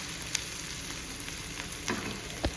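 Spices, onion and coriander sizzle softly in hot oil in a pan while being stirred, with a low steady frying hiss and a few faint scraping knocks of the spoon.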